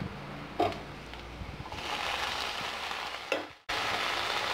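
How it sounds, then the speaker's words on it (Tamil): Tomato and onion fry and sizzle in a pan for egg masala, a steady broadband hiss with two sharp stirring scrapes and a brief dip where the sizzle cuts out, close and fairly loud, no talk. "தக்காளி நல்லா வதங்குற வரைக்கும் நல்லா கலரி விடணும்"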